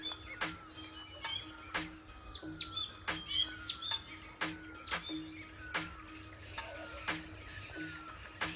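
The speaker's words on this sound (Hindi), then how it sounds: "भिन्न भिन्न पक्षियों की आवाज़ें आपको सुनाई दे रही होंगी सुबह सुबह" Various birds chirp and tweet at a tea garden in the morning: a busy, overlapping chorus of short calls near and far, with a steady low background hum.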